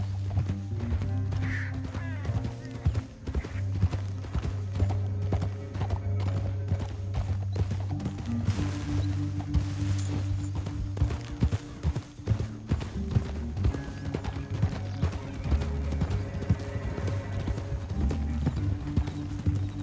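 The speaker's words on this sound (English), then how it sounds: "Up here, get off your horse." Horses gallop in a Red Dead Redemption 2 canyon chase, a continuous fast clip-clop of hooves with occasional whinnies under a steady game music bed, fairly quiet overall.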